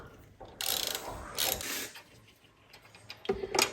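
Ratchet with a 13/16 spark plug socket loosening the spark plug on a John Deere X350 lawn tractor, giving a few short bursts of close ratcheting clicks separated by pauses.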